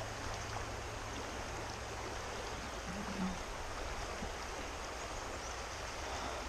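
Steady rushing creek water at Pine Creek during high spring flow, a continuous broadband wash heard up close with no talk over it.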